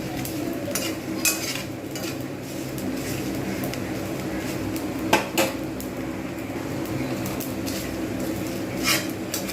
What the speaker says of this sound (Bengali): আঁচ কিন্তু কমিয়ে আমি ধীরে ধীরে এইভাবে ভালো করে রোস্ট করে নেব